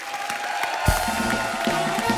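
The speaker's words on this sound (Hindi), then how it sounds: "एक बार जोरदार तालियां हमारे मेहमानों के लिए आई है भैया" An audience at a comedy show applauds and cheers for guests, a dense wash of clapping and crowd noise throughout, with a sharp thump partway through and a voice over the top.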